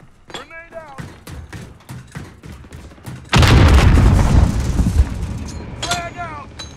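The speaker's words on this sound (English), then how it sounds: "Grenade out." A grenade goes off in Call of Duty Warzone. Sharp clicks and short gunfire-like pops come first with brief voice-like game sounds, then one sudden, loud, deep explosion booms and rumbles away over several seconds.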